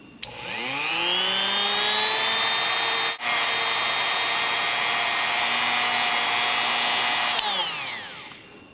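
A power tool polishing the decocking lever of a Smith & Wesson third-generation pistol whines up to a steady high pitch, cuts out briefly near three seconds, then resumes and winds down at the end.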